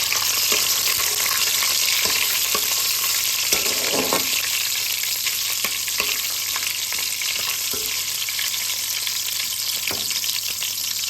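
Nigella seeds and slit green chillies stir-frying in hot oil in a pan, a loud steady sizzle with scattered clinks and scrapes of stirring throughout.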